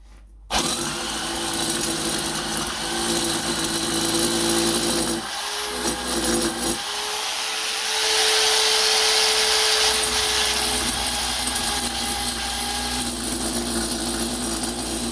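A faulty power drill running continuously at a steady pitch with a rough, buzzing grind, briefly dipping and restarting midway, close to the recorder.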